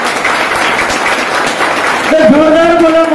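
Distributors at a crowded business-plan meeting clap loudly for new guests, a dense continuous roar of hands, with a voice and whistle-like tones cutting in near the end.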